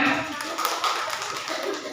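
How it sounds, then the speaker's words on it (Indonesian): An audience at a teacher training session breaks into a short burst of dense, continuous applause, moderately loud and close. "Tepuk tangan buat semuanya"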